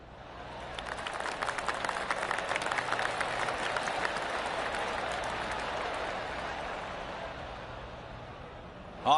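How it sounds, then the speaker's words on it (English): Golf spectators at a championship invitational applaud around the course, a sustained patter of clapping from a crowd at a moderate distance, swelling then slowly fading. "I can hear the golf claps around the course"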